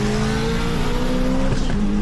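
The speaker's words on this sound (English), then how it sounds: "Oh my God, he's banging gears." A twin-turbo car making almost 1,400 horsepower revs hard with a steady, loud engine drone and a sharp break as it bangs through a gear change.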